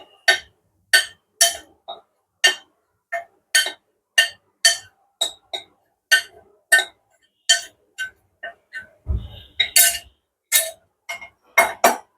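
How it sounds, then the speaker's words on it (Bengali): Dry ingredients being mixed into a beaten egg and milk batter for chocolate muffins give a steady run of light, rhythmic clinks of utensil against bowl, evenly spaced over the whole stretch with no talk. "এরপর আমি এর মধ্যে যে শুকনো উপকরণ যেগুলি ছিল সেগুলিকে মিশিয়ে নেব।"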